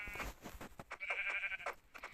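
A sheep in Minecraft, played through PojavLauncher, bleats in a short, wavering cry. The bleat is fairly close and sounds alone, with no speech over it.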